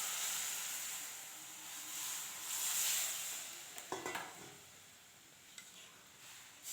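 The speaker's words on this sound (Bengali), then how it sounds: "এবার সেদ্ধ করা কুমড়ো আলু সব দিয়ে দেবো ফোড়নে।" Boiled pumpkin and potato go into hot tempering oil in a pan, giving a soft hiss and sizzle, then a few clinks and scrapes of a spoon stirring against the pot.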